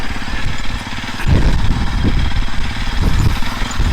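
A Hero Xpulse 210 motorcycle rides off-road over a potholed, rough village track, its engine running steadily and close with a rumbling drone that swells as the throttle opens, with no talk.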